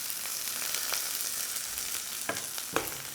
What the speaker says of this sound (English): I'm going to layer a fair amount of mix over the top.